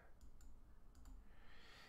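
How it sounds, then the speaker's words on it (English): Computer mouse right-clicks during origami crease-pattern design software work: a few faint, sharp clicks in pairs at close range, over a low steady room hum with no talking. "And I'm right-clicking to delete,"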